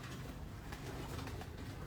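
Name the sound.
pigeons cooing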